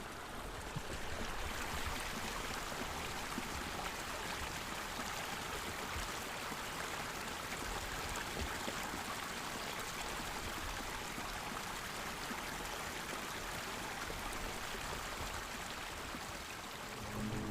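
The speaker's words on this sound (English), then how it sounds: "listen to her well on the mountain streams" Continuous rushing and splashing of a flowing stream, a dense, steady wash of water sound with no voices, holding level for the full length.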